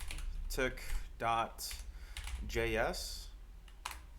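Computer keyboard typing on a coding setup, a few quick bursts of key clicks heard close and clear alongside someone talking.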